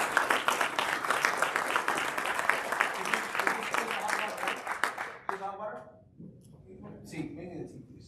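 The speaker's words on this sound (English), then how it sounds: "Let's give her a round of applause." An audience applauds a woman at a sales gathering; dense, steady clapping fills the first five seconds and then breaks off as people start talking nearby.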